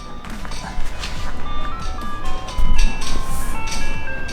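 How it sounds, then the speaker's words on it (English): A tinkling ice cream truck jingle plays at a distance over outdoor background noise and occasional thumps. "I hear an ice cream man."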